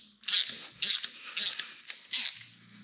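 A ratchet loosening a spark plug from a Ford 351W 5.8L V8 engine clicks in four or five quick close bursts, each a short sharp run of pawl clicks with brief pauses between.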